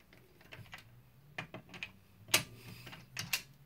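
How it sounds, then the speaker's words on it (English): Lug nuts being taken off a car wheel by hand, producing scattered quiet metallic clicks, ticks and clinks, with a couple of sharper metal taps standing out, all close and otherwise quiet. "It's as simple as just taking each lug nut off."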